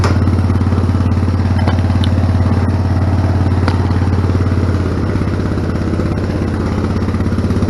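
Tractor engine with a worn-out, rotted muffler running steadily nearby, a loud, raspy low putter with a rhythmic clattering pulse, the note dropping slightly midway.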